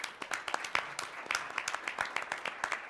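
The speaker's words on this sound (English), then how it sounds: "I got a clap somebody." A small audience at a town hall gives sparse, distinct hand claps in an uneven rhythm, fairly close and moderate in loudness with no talking.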